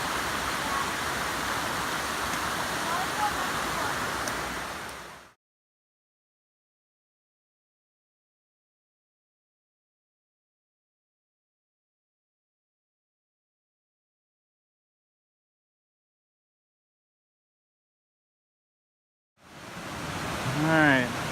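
Steady rushing roar of a waterfall along the Amicalola Falls approach trail, broad and continuous for about five seconds, then a long stretch of silence before the water noise returns briefly at the end.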